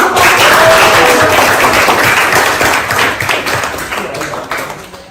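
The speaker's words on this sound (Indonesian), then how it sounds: "kita kasih aplaus" Classmates in a vocational high school classroom applaud a student group with loud, dense clapping that thins out and fades toward the end.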